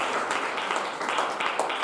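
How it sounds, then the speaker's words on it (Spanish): Applause from a church congregation during a Sunday school sermon: steady, dense clapping from many hands, fairly close, sustained throughout with small swells and no clear voices over it. "Un aplauso, hermano."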